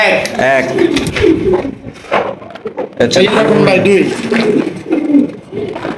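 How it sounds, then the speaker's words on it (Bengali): Racer pigeons coo and rumble up close in repeated throaty phrases, loud and continuous, with a voice speaking over and between the birds. "এক জোড়া রেসার কবুতর"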